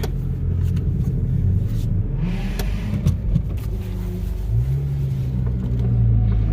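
Honda Civic Si (FA5) with a dead alternator, engine idling after starting, a steady low rumble with a brief rev swell near the end.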